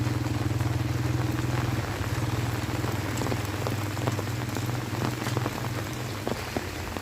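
Steady rain falls continuously for the whole stretch on a rainy day outdoors in Thailand, with a low, constant hum underneath the dense patter.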